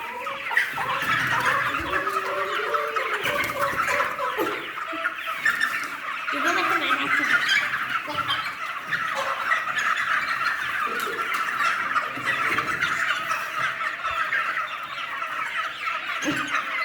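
A dense chorus of chickens clucking and cheeping together, steady and close throughout, with scattered louder calls.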